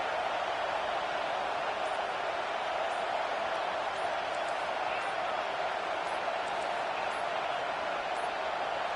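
A stadium crowd at a college football game between SMU and Michigan roars to back the defense on third down, a dense, steady wall of loud cheering that never lets up.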